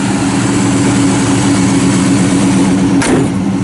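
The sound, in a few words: V8 car engine starting and idling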